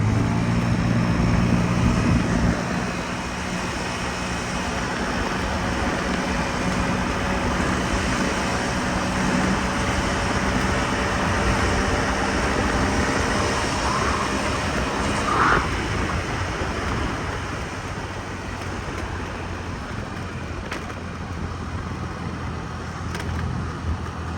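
A Honda Dio AF57 Z4 scooter being ridden at around 60 km/h gives a steady, even drone of engine and wind rush that holds for the whole stretch, with no voices.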